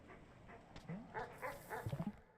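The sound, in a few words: dogs barking in the video game Animal Well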